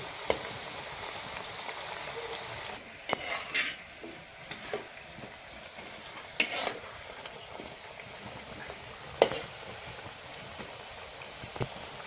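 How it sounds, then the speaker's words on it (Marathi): Onion bhaji fritters deep-frying in hot oil, a steady close sizzling hiss broken by occasional sharp pops and utensil clicks. "आपले वडे तेलामध्ये पाहिजे तळायचे"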